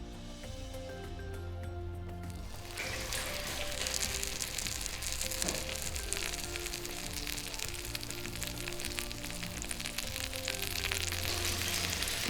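Fish kebabs dipped in egg fry in a pan, giving a continuous dense sizzle that swells after a quieter start and holds steady, fairly loud and close, with no talking.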